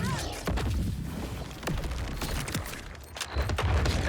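The Madlad SMG fires in Borderlands 4, producing rapid, dense bursts of gunshots with sharp repeated cracks over a busy, rumbling game background, loud and close throughout.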